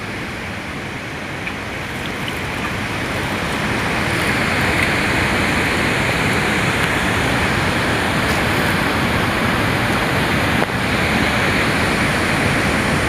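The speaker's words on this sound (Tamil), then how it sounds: "அதுலேருந்து தண்ணி எவ்வளோ கூடுதலாக வருதுன்னு பாருங்க." Powerful rushing floodwater of a swollen river at Theni, Tamil Nadu, roaring steadily nearby, swelling slightly louder after the first few seconds and continuing without pause.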